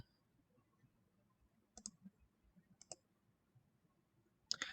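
A single key on a computer keyboard pressed in a quiet room, a few faint separate clicks spaced apart, then a louder burst of clatter at the end.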